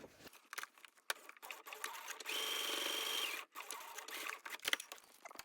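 A sewing machine runs one short burst along a fabric seam on a boxy top, with scattered handling clicks and rustles before and after.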